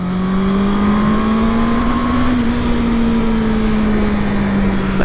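A 2021 middleweight naked motorcycle, a Honda CB650R or Aprilia Tuono 660, pulls steadily under acceleration, its loud, close engine holding a smooth, slowly rising hum.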